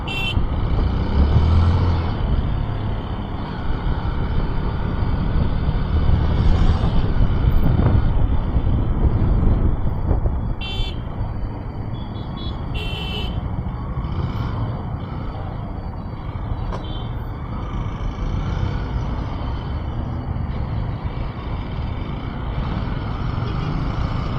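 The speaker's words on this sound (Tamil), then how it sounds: "இன்னும் எவ்வளோ தூரம் இதே மாதிரி டிராஃபிக் இருக்குன்னு தெரில" Heavy road traffic passing a motorbike rider near Coimbatore, with loud rumbling trucks and cars, engine roar, a few high beeps and hissing air brakes, dense and continuous, easing a little after the first half.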